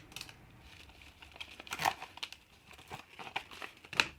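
Scissors cut open a plastic bag, making close, irregular crinkling and snipping sounds with a few sharper crackles.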